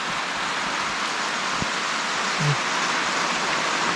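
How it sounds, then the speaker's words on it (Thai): Steady rain falls outdoors in a dense, even hiss that holds at the same level throughout, with a brief faint knock midway and no one talking. "ฝนมาอีกแล้วทุกคนนะ"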